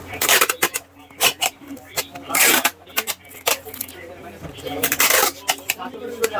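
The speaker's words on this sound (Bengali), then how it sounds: "দেখতে পাচ্ছেন আমরা কিভাবে প্যাকেট করে দিচ্ছি।" A Mikrotik RouterBoard 850Gx2 router is wrapped and packed, with rapid crinkling, rustling and tearing bursts of packing material in an irregular close rhythm, while a person talks throughout.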